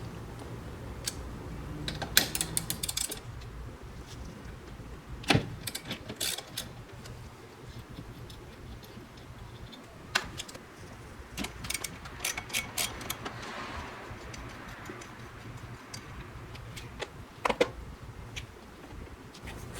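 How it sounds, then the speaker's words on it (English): A ratchet fitted with a 14 mm socket clicks in short bursts while removing the caps over car wiper arms, quiet close-up ratcheting with pauses and small metallic taps between strokes. "In this case, I'm using a 14 mil socket."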